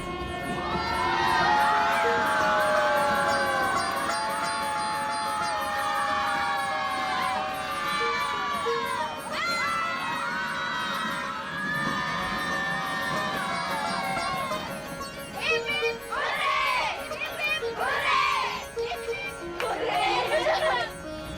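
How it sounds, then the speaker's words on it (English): Uniformed school children cheer and shout in unison aboard a train as it passes through tunnels, bursts of excited young voices rising loud and close, fading, then erupting again in several waves. "The school kids in their uniforms cheer in unison every time we pass through one of the tunnels."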